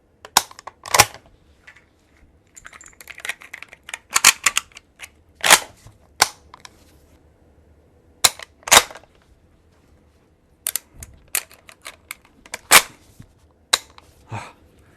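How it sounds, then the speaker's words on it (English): Rounds and clips are loaded into Swiss 1893 Mannlicher and M95 rifles, giving sharp metallic clacks and snaps in irregular clusters with quiet pauses between. The sounds are close and loud, with no talking. "I'm going to do a couple like comparisons of loading both of these guns"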